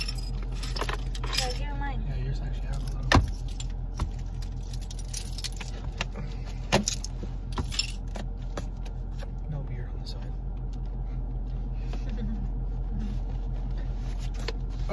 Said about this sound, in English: Damn, my keys.